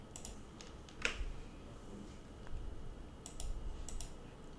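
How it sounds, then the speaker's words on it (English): Several crisp, faint mouse clicks while the Ctrl key is held down, short isolated ticks spaced irregularly over quiet room noise, with no talking. "hold Ctrl key on the keyboard and left click"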